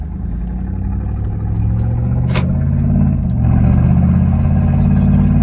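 A newly bought car's engine rumbles deep and loud from close by, its low drone swelling gradually as it is revved.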